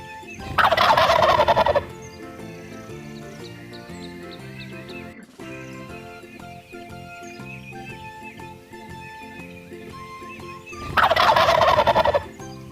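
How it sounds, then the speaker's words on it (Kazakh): Turkey gobbling in two loud, close bursts at the start and end, each a rapid rattling gobble, with children's background music playing throughout between them. "Күркетауық."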